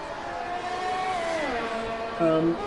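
A GP2 race car in a racing video game at the Vietnam circuit, its engine whining steadily down a long straight and then dropping in pitch as it heads into heavy braking, with commentary talking over it.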